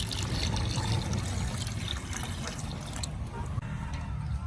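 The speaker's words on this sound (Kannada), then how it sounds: "ನೀರು ಹಾಕ್ತಿದ್ದೇನೆ." Water poured into a pan for boiling potatoes for French fries, a steady low rushing splash running throughout at close range, fairly even in level.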